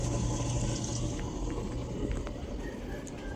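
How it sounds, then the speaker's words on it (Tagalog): Water rushes steadily into a Samsung automatic washing machine as it fills, a continuous near hiss and splash that holds at an even level throughout. "Lakas na yung tubig."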